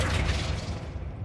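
A Flipendo spell strikes its target in Hogwarts Legacy, a short, full-bodied boom that swells briefly and then fades over about a second, loud and close with no voices.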